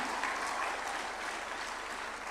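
Audience at a judges' swearing-in ceremony at State House in Nairobi applauding, a continuous dense wash of many hands clapping at a steady, fairly soft level throughout.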